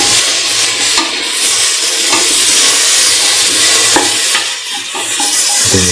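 Tomato goes into a pan of frying garlic potato rice, giving a continuous loud sizzle broken by several sharp utensil taps and scrapes against the pan.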